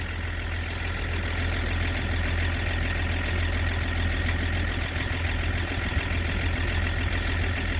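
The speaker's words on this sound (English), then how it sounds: "I'm going to restart the engine, see if anything happens." A Range Rover P38 engine idles with a steady, deep rumble at close range. The tone stays even and continuous, with no talking over it.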